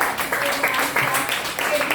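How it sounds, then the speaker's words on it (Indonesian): Short bursts of clapping from a classroom audience during a positive culture lesson, uneven rhythmic claps mixed with people talking. "Luar biasa, tepuk tangan"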